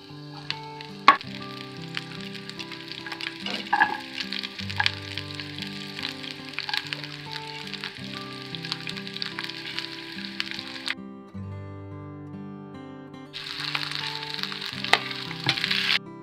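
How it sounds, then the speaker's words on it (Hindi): Continuous crackling sizzle of onions and chillies frying in a little hot oil, with occasional sharp pops, over soft background music that carries throughout. "थोड़े से तेल में मैं इन सबको तड़का दूंगी"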